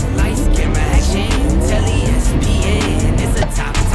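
A race car engine drones loudly and continuously at the start of a race, with a close, steady roar and a hint of tire noise throughout.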